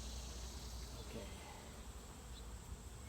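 Honeybees hum in a low, continuous drone while a hive is opened for inspection, faint and steady without any break.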